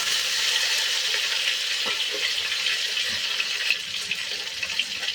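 Elephant foot yam pieces, soaked in lemon water, fry in a pan while being stirred, giving a steady, fairly loud sizzle with faint scraping throughout and no talking.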